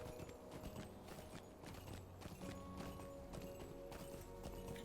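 A Christmas goat mount in the Lord of the Rings Online video game trots with a steady clip-clop of hooves, set against a dense, constant wash of game music and ambience.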